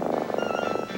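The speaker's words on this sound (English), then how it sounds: "Now that's the sound of a healthy cat." Happy, healthy cat purring close up, a rapid rhythmic rumble of pulses repeating evenly through the short stretch, alone with no talk.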